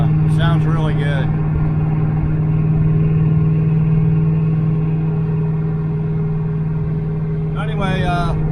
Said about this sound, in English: I bought them and some mufflers, cheap turbo mufflers for one chamber, and it sounds really good.